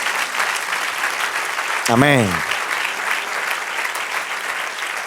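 A church congregation claps steadily in praise of the Lord during a Spanish-language sermon, a sustained wash of applause with a voice briefly calling out over it midway.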